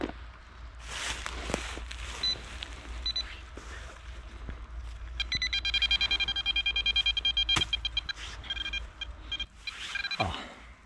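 A Quest ProPointer metal detector pinpointer beeping over an iron nail in a forest, a rapid run of electronic beeps near and fairly loud over background rustle and footsteps.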